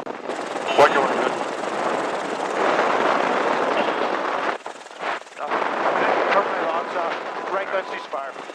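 An M134 minigun fires from a USMC UH-1Y Venom helicopter as a dense, continuous roar under rotor and engine noise, with a brief lull midway and radio voices mixed in.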